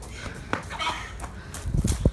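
Chickens clucking during a chase, short squawks and scuffling bursts that grow louder toward the end, with no talk over them.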